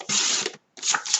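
Paper for an album cover is trimmed in two close, loud cutting strokes, each a dry rasping rustle, separated by a brief silence.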